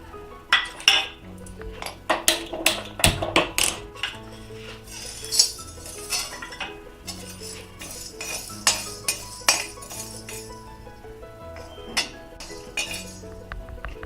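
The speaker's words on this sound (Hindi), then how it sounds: "तो चलिए हम इसको सबसे पहले ड्राई रोस्ट कर लेते हैं।" Whole spices dry roast in an iron kadhai as they are stirred, producing frequent close metallic clinks and scrapes in an irregular rhythm.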